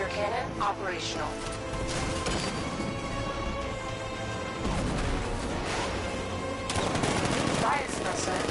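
Heavy weapon fire rattles through a combat scene in Batman: Arkham Knight, with repeated booming blasts, crashes and rapid gunfire layered over game music and effects, dense and loud throughout.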